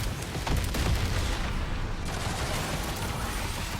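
A tank machine gun fires in the Trailmakers video game, a dense continuous rattle of rapid shots on a Swedish Strv. 103-style door wedge tank, loud and steady throughout with no talk.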